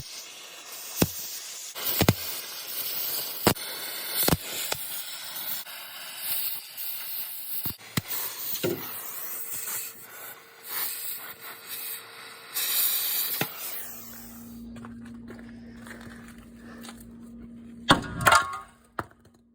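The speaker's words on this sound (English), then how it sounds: "we got the gas axe out, and we're gonna start chopping some bolts off" An oxy-acetylene torch roars and hisses steadily while cutting rusty bolts, the metal popping and cracking intermittently, then a lower humming tone takes over with a sharp burst near the end.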